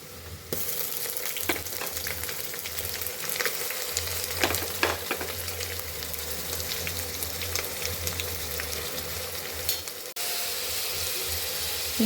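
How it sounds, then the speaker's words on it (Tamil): Ginger garlic paste frying in oil for chicken biryani, a steady sizzle with occasional spoon scrapes that begins abruptly and runs continuously, shifting slightly near the end. "இஞ்சி பூண்டு பேஸ்ட்டை நல்லா எண்ணெயிலேயே வதக்கணும்."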